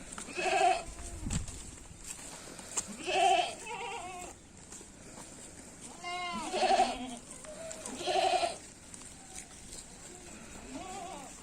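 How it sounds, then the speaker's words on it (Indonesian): Goats from a livestock aid programme in Wungu district bleat in a rhythmic series of wavering cries, several calls spaced a couple of seconds apart over steady outdoor background noise, with no talk. "Ini Mbah Tarom dan rombongan melihat bantuan ternak kambing di Kecamatan Wungu."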